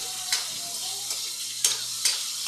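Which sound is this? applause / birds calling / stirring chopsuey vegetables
stirring chopsuey vegetables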